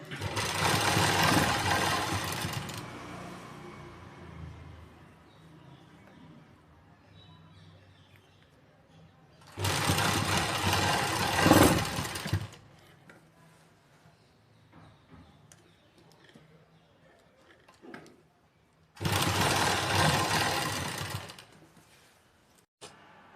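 A domestic sewing machine stitches lace onto a dupatta edge in three loud, steady bursts of rapid whirring and clatter separated by quiet pauses, with faint handling noises between runs.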